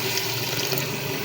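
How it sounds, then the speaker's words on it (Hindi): Water poured into a simmering daal mash gravy in a cooking pot makes a steady, close rushing splash that runs unbroken through the short moment. "थोड़ा सा पानी हमने इसके अंदर ऐड किया है"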